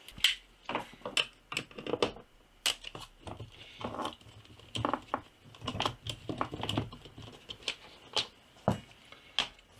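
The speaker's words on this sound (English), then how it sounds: "So we need to remove these 3 screws next to release the bottom plate." A star-drive screwdriver works on the base plate screws of a SEBO vacuum cleaner, giving quick irregular clicks, taps and scrapes at close range with no talk.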